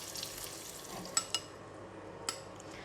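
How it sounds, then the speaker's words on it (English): Dried shrimp fry in hot oil in a pan, a soft steady sizzle close by, broken by a few sharp clicks of a utensil against the pan. "Alright, dry shrimp, we just cook it for about 1 minute"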